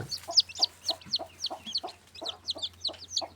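Newly hatched pure desi chicken chicks peep in a quick, repeated series of high chirps, about a dozen calls over a few seconds, close by, with a steady low hum underneath.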